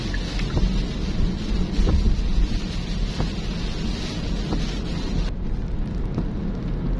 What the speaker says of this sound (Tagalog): Ayan guys, buhos na ulan